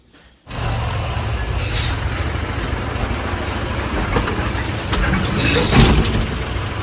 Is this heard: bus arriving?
yes